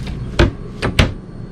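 Kitchen drawers in a Thor Challenger 37 LX RV sliding and thudding shut, three quick close knocks in under two seconds, near and fairly loud.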